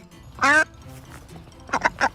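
A pet duck quacks loudly once, then again in a quick run of two or three short quacks, close by.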